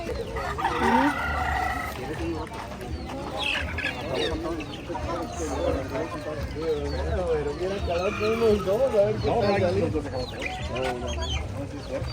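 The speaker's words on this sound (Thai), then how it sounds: "ไก่งาม" A rooster crows and chickens cluck at an open-air weekend market in Texas, with steady nearby voices talking over the birds.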